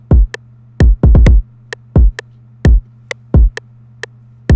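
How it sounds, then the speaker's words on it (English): Punchy Quick Attack kick drum sample from the Jodo League kit, struck in a syncopated hip-hop pattern of short, deep thumps with a few quicker doubled hits, over a steady low hum and sparse bright ticks. "this kick from the Jodo League kit by Chew called Quick Attack, and that sounds like this."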